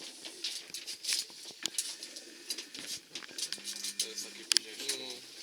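Pigeons in a loft, soft intermittent cooing and fluttering, some close and scattered, with a person speaking briefly at points.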